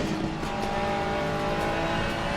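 Race cars in Assetto Corsa Competizione, including a Ferrari and a Mustang, roar steadily with a continuous dense engine drone and faint tyre noise, no pauses.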